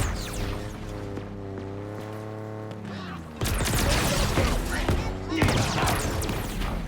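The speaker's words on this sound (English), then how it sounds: "Enemy fire on me!" Rapid enemy gunfire in Halo Infinite, a burst of dense crackling shots and booms that erupts midway and keeps going over game music and voices.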